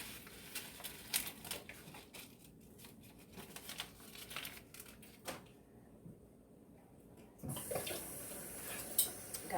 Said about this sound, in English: Gotta mix some water.